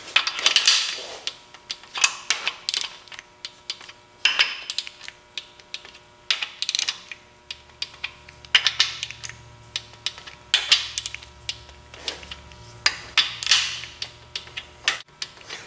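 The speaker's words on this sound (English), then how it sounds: "So now we're going to go through and torque all our bearing caps, starting with 10 foot-pounds, working from our center and spiraling outwards" Bearing caps on a bare 5.7 HEMI engine block get torqued with a click-type torque wrench, center outward in a spiral: a steady series of sharp metallic clicks and ratcheting snaps repeats close by at irregular intervals, with quiet gaps between and no talking.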